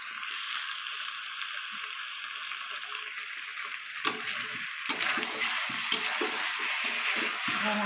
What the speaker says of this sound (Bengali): এবারে মাংসে জল দিয়ে দেবো